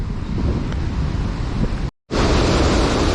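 A fast-flowing mountain river on the trek to Kedartal in Uttarkashi gives a loud, steady broadband rush with heavy wind buffeting the microphone, cut by a brief dropout.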